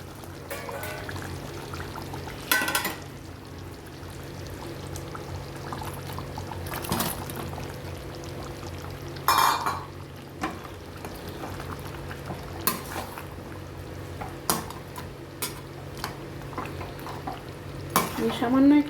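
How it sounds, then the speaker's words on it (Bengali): Fried chicken pieces dropped into chili chicken gravy and stirred in a pan, giving a continuous sizzle and bubbling with periodic scrapes and clatters of a utensil against the pan. "এবার আমি ভেজে রাখা চিকেনগুলো এর মধ্যে দিয়ে"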